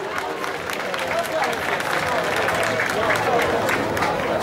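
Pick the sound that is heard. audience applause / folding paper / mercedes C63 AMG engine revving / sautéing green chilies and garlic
audience applause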